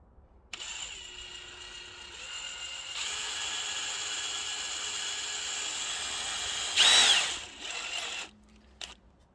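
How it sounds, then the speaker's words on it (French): A power drill bores a hole in a car to fit a rear-view camera, whirring steadily for several seconds with a brief louder burst near the end before stopping. "je perce."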